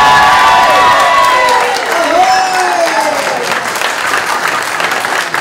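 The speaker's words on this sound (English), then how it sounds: "please make loads of noise for the bonus point king winner, Kelsey!" A crowd at a sports club's end-of-season awards night on the Isle of Wight claps and cheers for a prize winner, loud sustained applause with whoops and a rising cheer that slowly fades.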